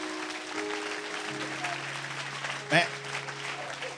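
Church congregation clapping together during a lively worship service, a steady wash of applause under sustained musical tones, with one sharp louder burst partway through and voices speaking over it.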